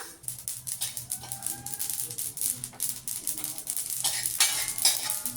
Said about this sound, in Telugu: లో ఫ్లేమ్ మీద పెట్టి వేయించాలి.